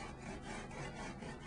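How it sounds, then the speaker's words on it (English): A wooden screed board is drawn back and forth in a sawing motion across wet concrete in a countertop form, giving a steady, close, continuous rasping scrape with a faint rhythmic pulse and no talk. "So I'm taking the screed board, and in a sawtooth sawing motion,"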